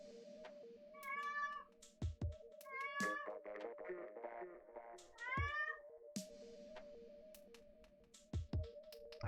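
A house cat meows several times, about three clear rising cries spread over a few seconds, fairly close, over the steady tones and blips of a Splatoon 2 game playing in the background.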